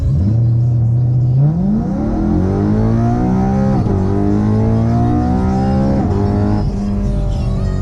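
BMW M3 with pulley and exhaust upgrades on the stock tune, accelerating hard through a timed run. The engine note climbs loudly and steadily, with a couple of brief dips at gear shifts, close and continuous with no talking.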